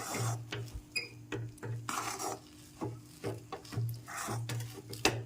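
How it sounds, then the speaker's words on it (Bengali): Rice flour dough is stirred and kneaded in a pan over boiling water, giving repeated close scraping and rubbing strokes in an uneven rhythm against a low steady hum. "এভাবে একটু নেড়ে চেড়ে আটো আটো করে মেখে নিতে হবে চাল গুঁড়িটা"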